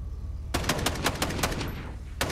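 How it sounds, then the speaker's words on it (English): A big gun in the Fortnite video game fires a quick volley of loud, sharp shots, about eight in rapid succession after a short quiet lead-in, with one more shot at the end. "Oh, you fire big gun!"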